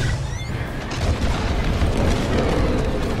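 A bombing run in Star Wars: Squadrons sends out a dense, continuous rumble of explosions, deep and loud throughout, with a faint whistle near the start.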